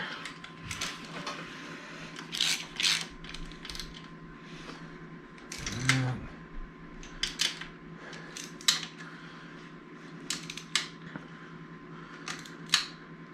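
A ratchet works bolts on a 1985 Honda ATC 250R build, making scattered, close, sharp clicking bursts and short mechanical rattles against a quiet workshop hum, with pauses between strokes.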